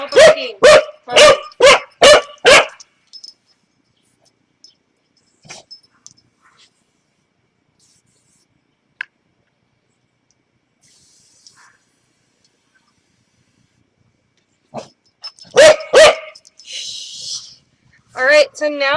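A puppy barks outside in a quick string of sharp, close barks, falls quiet for a long stretch, then barks again in another short burst near the end.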